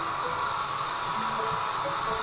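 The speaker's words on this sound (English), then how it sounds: "And now Maura can do the hairdryer test again." A steady, continuous blowing whoosh like a hair dryer running, constant in level throughout with no pauses.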